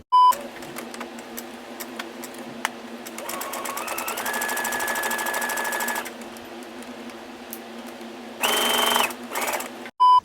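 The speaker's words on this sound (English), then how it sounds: "it's just fold it a little and then sew a line right down here" Sewing machine stitching a line on a shirt, a fast, even mechanical chatter running for a few seconds, then a pause and a shorter burst, heard close and alone with a few small clicks.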